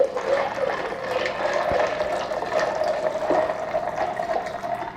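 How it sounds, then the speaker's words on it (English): Iced white peach tea being poured straight into a pitcher, a steady continuous splashing stream of liquid that holds at an even, close level throughout with no talking. "Or I can pour it directly into my pitcher"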